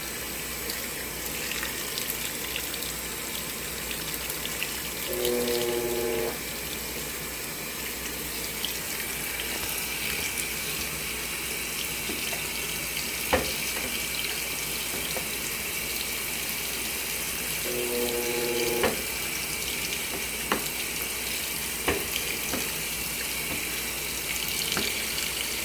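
Washing machine filling with water at the start of a cold wash cycle, a steady broadband rush of running water lasting throughout, with faint clicks and two brief mechanical hums along the way.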